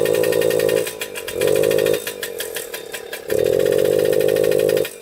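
A Suzuki JR50 dirt bike engine is revved in loud, buzzy bursts at full throttle, rising and falling three times with a flat, boggy tone that never clears, close by and with no talking.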